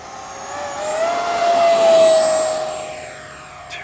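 An FMS Futura V2 80mm EDF model jet takes off with takeoff flaps set, its ducted fan rising to a loud, steady whine that swells and peaks as it passes close by, then fades away.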